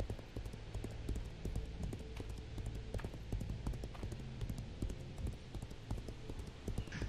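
Many horse hooves clip-clop in a busy video game town, a quiet, steady stream of overlapping clattering steps with no voices.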